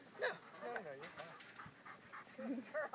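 A dog pants rapidly and rhythmically at close range while herding sheep outdoors, the breathing running under casual talk from nearby people throughout.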